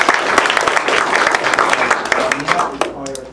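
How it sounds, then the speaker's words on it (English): Audience applause for the organizers of a business-intelligence and big-data seminar, a dense, steady patter of many hands clapping close by that tapers off near the end. "So let's give them applause."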